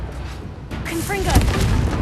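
A Confringo blasting curse explodes in Hogwarts Legacy with a deep, loud boom, followed by a rumbling tail, some bright magical tones and a voice underneath.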